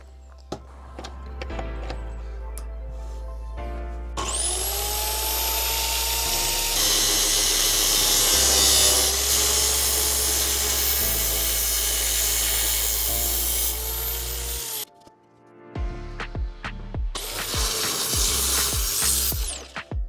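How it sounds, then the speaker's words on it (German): A power saw cuts through aluminium L-profile pieces for solar panel mount feet, a loud, sustained high whine that runs for several seconds, stops, then starts again for a second cut. "Im ersten Schritt schneiden wir jetzt unsere Standfüße. Die sind in meinem Fall 1 Meter lang und die sägen wir jetzt zurecht."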